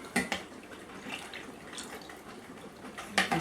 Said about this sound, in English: Here's this piece dripping like I said it would.